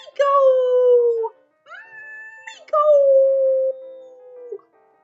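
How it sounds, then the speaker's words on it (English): A deaf 19-year-old cat gives three long, drawn-out meows, each sliding slightly in pitch. Loud and close, with short pauses between the calls. "She is my oldest cat."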